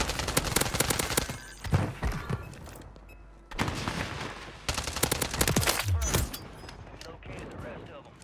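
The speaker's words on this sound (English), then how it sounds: "Is that a freaking fire shotgun?" Rapid bursts of gunfire from a fire shotgun in a first-person shooter, several loud blasts in clusters with pauses between, mixed with game effects and speech over it.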